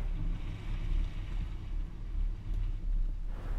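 A 2016 Nissan Pathfinder with a hitch-mounted cargo carrier driving through a slalom course, a steady low engine and road rumble that swells and eases with the turns, no voices.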